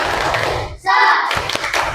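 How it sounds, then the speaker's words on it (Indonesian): A classroom of students performs a rhythmic 'tepuk semangat' clapping routine, with a short burst of sharp, close hand claps and voices chanting around them. "kita tepuk semangat"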